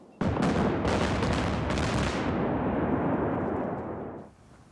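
A large explosion collapsing a tunnel in North Korea: a sudden loud broadband blast that roars on as a sustained rumble for about four seconds before cutting off, with no voices.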